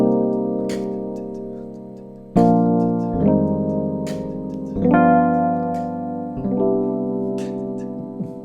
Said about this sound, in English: So we can have a chord progression that actually sounds something like this.